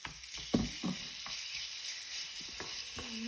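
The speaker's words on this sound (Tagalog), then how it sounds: "Yan, pwede na natin ilagay ang ating marinated chicken." Marinated chicken going into a pan of sizzling onion and garlic: soft, steady frying hiss with a few clunks and scrapes near the start, fairly quiet and close, no voices.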